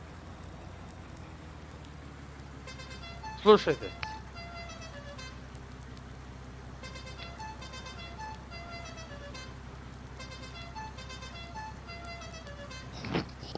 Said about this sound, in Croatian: Slušajte kako ima zanimljivu sirenu.